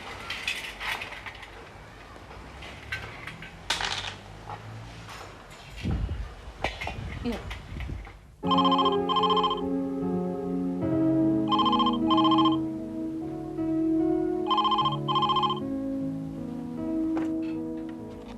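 A telephone rings indoors in a domestic scene, sounding in three evenly spaced bursts of trilling bell-like tones, loud and clear, after a stretch of household clatter and movement.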